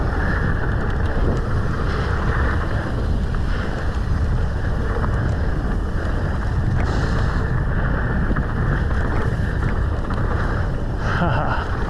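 Steady, loud wind roars across the microphone during a mountain bike descent on Park City freeride trails, with continuous rumbling gusts and no pauses.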